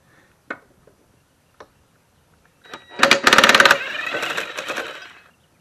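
A wrench works loose the 9/16 blade bolt on a 2001 Craftsman 21-inch push mower: a few isolated clicks, then a loud burst of rapid ratcheting followed by a sustained grinding metallic whir as the bolt spins out.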